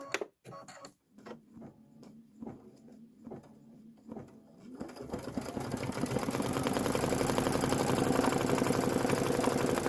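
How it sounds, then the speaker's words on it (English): Embroidery sewing machine stitching a silver leather brick tack-down on a bench pillow, starting with a few slow separate stitches, then speeding into a steady, fast mechanical whirring chatter that grows louder and continues evenly, close by. "So we're going to stitch the brick"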